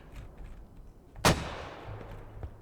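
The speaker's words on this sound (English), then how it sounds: "Belku utilizes one of the enemy mortars facing northwest bound." A mortar in the Squad video game fires once with a sharp, loud blast that trails off in a rumbling echo, over faint ambient battlefield noise with a dull thump near the end.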